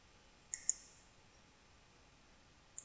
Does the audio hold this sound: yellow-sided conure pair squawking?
no